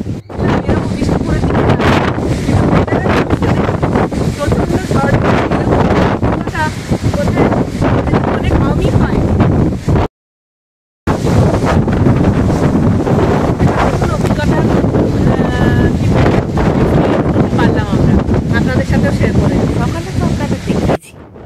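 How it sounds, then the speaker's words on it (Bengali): A strong nor'wester storm wind sweeps across open countryside near a camp, roaring steadily and buffeting the microphone with a dense, unbroken rush and one brief dropout. "ঝড়ের প্রবলতা, হাওয়ার দাপট, আকাশের চোখ রাঙানি, সে যেন এক ভয়ঙ্কর সুন্দর অভিজ্ঞতা।"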